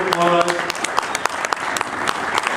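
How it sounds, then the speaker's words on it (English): Applause breaks out at a crowded conference, a dense wash of many hands with a few sharper claps standing out, while a voice briefly sounds at the start. "Give her a big round of applause."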